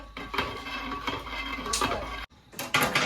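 Chopped beans and carrots tipped into a cooking pot for a vegetable kurma, giving a run of scattered clatters and soft thumps, a brief lull, then a few louder clunks of metal. No one speaks.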